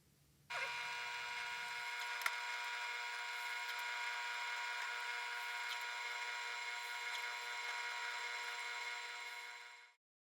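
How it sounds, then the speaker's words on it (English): A steady, high-pitched whine of a power drill boring holes in resin runs continuously for several seconds after a brief quiet start, then winds down and stops. "then drill 5 holes for keyways"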